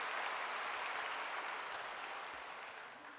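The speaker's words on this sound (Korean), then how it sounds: "우리 박수로 한번 격려합시다." A church congregation applauds after an ensemble's hymn during a Sunday service, a steady wash of many hands clapping that slowly fades toward the end. No one speaks over it.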